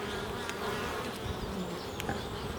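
Honeybees returning to the hive loaded with pollen, a dense continuous buzzing hum close by with a few brief clicks and knocks.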